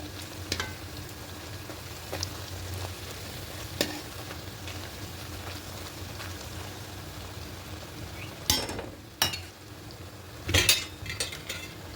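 Sago luchi frying in a pan of oil: a low, steady bubbling sizzle punctuated by sharp metal clinks and scrapes of a utensil against the pan, with a cluster of louder knocks toward the end and no talking.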